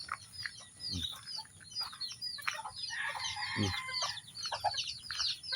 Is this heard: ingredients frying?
no